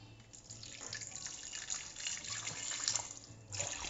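Water is poured over cut jackfruit seeds salted with a quarter teaspoon of salt in a cooking pot, making a steady, moderately faint splashing pour that runs for several seconds with small surges.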